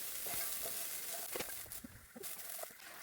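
Roasted peanuts are stirred into onions frying in a pan for lemon rice, giving soft scraping strokes and a faint sizzle against a steady hiss, with no talking.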